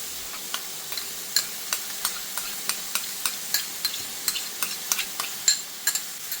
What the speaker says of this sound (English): we're just going to saute these ingredients